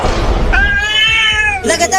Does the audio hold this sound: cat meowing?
yes